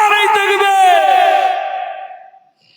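A large crowd shouts Allahu Akbar together in answer to a takbir call at a religious sermon gathering, a loud, unified drawn-out chant that swells and then fades to silence.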